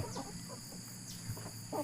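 Light Sussex chickens being paired for breeding cluck softly at a distance, a few brief, quiet calls spread over a low, steady background with no talking.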